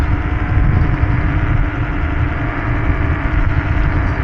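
A Circooter Cruiser Pro electric scooter with two 1200-watt hub motors cruises at around 28 mph, giving a loud, steady, rushing drone of wind and motor noise that holds level throughout without any voices.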